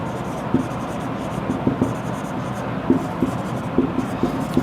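Soft scratchy strokes of chalk or marker writing on a board during a chemistry lesson, faint and intermittent over a steady room hum, with a teacher speaking quietly.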